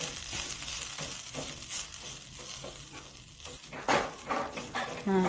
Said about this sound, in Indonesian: kita aduk.